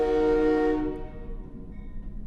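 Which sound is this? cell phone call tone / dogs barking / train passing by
train passing by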